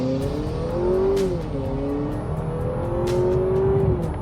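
A 2025 Honda Accord Sport L Hybrid accelerates hard in sport mode, its engine note climbing in pitch, easing briefly and then climbing again. The sound is close and loud, with no talking.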